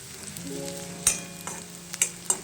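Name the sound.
onion being sautéed in a pan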